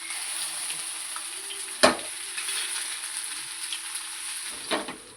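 Steady sizzle of a main dish frying in a pan, a constant close hiss with one sharp crackling burst near the start and another toward the end, with no voices.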